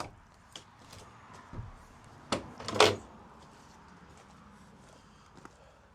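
Wooden doors on an eight-foot-wide roadside firewood stand are swung open, giving a few close knocks and a sharp rattling clatter mid-way over quiet outdoor background.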